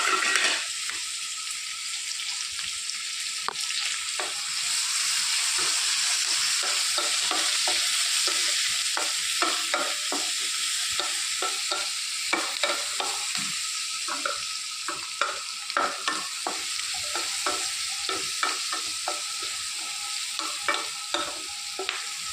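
Green chilli and onion fry with turmeric in a pan while a spoon stirs them, a steady sizzle broken by repeated scraping strokes that grow busier and more rhythmic over time, with no voices.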